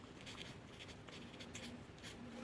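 Pen scratching out an algebra equation on paper during a class 10 graph-method maths lesson, a soft continuous scribbling texture with short bursts of strokes, faint and close.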